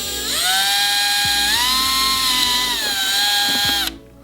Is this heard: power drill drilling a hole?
yes